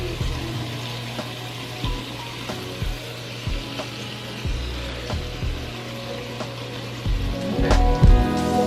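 Chicken pieces searing in a hot pan for one-pot chicken and rice, a steady close sizzle with occasional light scrapes and clinks, building louder toward the end.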